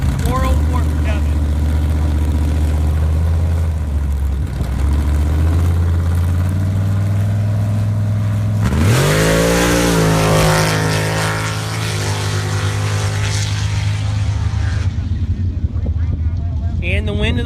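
A drag racing truck runs down the track at a fall nationals bracket event, its engine a loud sustained roar with a sharp pitch change midway, under continuous announcer commentary.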